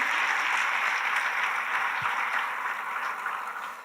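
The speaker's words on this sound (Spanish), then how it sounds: "¿Podrías darle un aplauso al Señor por la gloria que Él está manifestando para ti?" A congregation applauds at the Dimensiones Proféticas 2022 church conference. Dense, continuous clapping from a large crowd fills the hall and tapers slightly toward the end.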